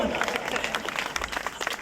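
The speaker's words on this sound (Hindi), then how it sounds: "तालियां बजाओ, बाप विदाई हो रहा" An audience breaks into clapping, a dense, uneven patter of many hands that stays fairly loud across the moment, with some speech mixed into the crowd noise.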